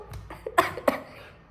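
A woman coughs in a quick burst of three or four short, sharp coughs close by, with nothing else around them.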